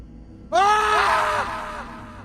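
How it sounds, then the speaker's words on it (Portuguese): A loud, sudden scream bursts out after half a second of quiet, a wavering wail held for about a second before trailing off into a reverberant echo, set in a ghost story. "O grito ecoou pelas ruas desertas."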